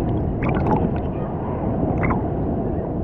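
Ocean waves breaking near rocks while snorkeling, a continuous churning, gurgling wash of water heard close up, with brief bubbly bursts and splashes.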